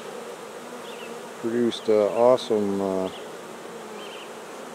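Honey bees buzzing steadily at an open backyard hive during an early-July inspection in Alberta, a continuous hum under a brief spoken word from a nearby person.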